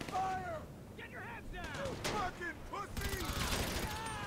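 Vance SMG fire in GTA V during a gang attack at Los Santos International Airport crackles in rapid, close bursts, with shouting voices and other game noise mixed in.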